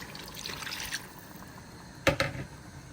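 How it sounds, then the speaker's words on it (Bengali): Soft trickling of liquid at first, followed by a brief clatter and splash as marinade-rinse water is poured into a pot of chicken biryani nearby. "মাংস ম্যারিনেটের পর যে পানি মশলা ছিল সেই ধুয়ে আমি পানিটা দিচ্ছি"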